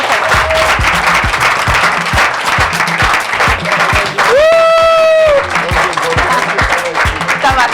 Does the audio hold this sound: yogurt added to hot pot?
no